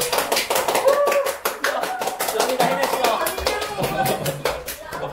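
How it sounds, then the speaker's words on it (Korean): Students clap in a classroom during a math lesson, a rapid string of sharp hand claps close by, mixed with a teacher talking and children's voices. "박수."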